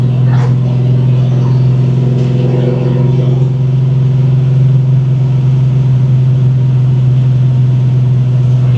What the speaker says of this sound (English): Car drives really smooth.